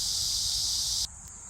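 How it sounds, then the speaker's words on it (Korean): Cicadas singing in midsummer at a July arboretum in Pocheon: a bright, sustained buzzing drone holds steadily, then cuts off abruptly, leaving a fainter high insect whine over quiet outdoor background. "매미 소리도 막 들립니다."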